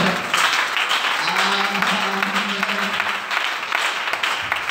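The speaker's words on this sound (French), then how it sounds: "Donnez une acclamation au Seigneur." Church congregation applauding and acclaiming during a sermon, a broad, continuous wash of clapping with cheering voices mixed in, sustained at moderate loudness throughout.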